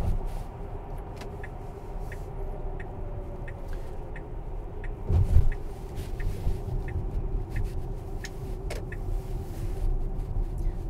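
Tesla car on a busy daylight highway while Autopilot is tested, with a steady low road rumble and tyre noise from inside the cabin and a brief louder whoosh midway, no talking.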